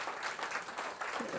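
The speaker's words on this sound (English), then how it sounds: "I think we need to give her a good applause." Residents at a council meeting give a short burst of applause, a soft wash of clapping from a modest room crowd, lasting just over a second.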